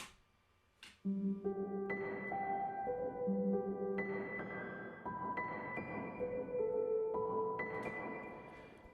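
A repeating arpeggiated keyboard pattern climbs through stepped notes in a steady loop, moderately quiet and alone, with no voices.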